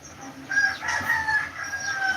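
A rooster crows nearby in one drawn-out call, moderately loud over a faint room background, with no one talking.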